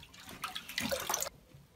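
Water draining out of a toilet cistern, a brief close gurgling splash and trickle that swells then cuts off into quiet.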